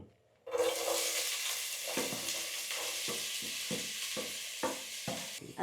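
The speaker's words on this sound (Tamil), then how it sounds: "எண்ணெய் வந்து கொதிச்சிட்டுது நான் இப்போ வெங்காயம் உள்ளி பச்சை மிளகா கருவேப்பமிலை போட போகிறேன்" Onion, garlic, green chili and curry leaves drop into hot oil with a sudden loud sizzle, then keep frying with a steady hiss broken by repeated scraping stirs, close by and with no talking.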